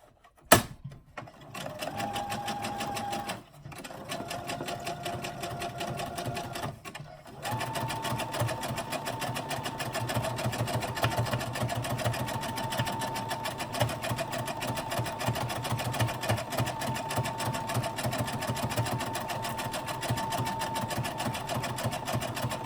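A sewing machine topstitches a garment, a steady close humming whir running continuously after a couple of brief starts and stops.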